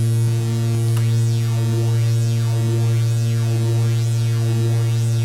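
Loud, steady square-wave drone from a Behringer Grind synthesizer, with a sweeping filter that rises and falls in a regular, repeating cycle about once a second, heard alone.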